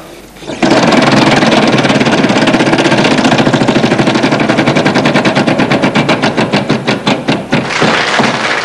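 A game show prize wheel on La Roue de la Fortune spins with loud, rapid ratcheting clicks that gradually slow into distinct, spaced ticks as it winds down.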